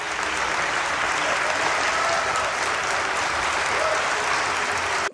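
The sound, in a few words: audience applause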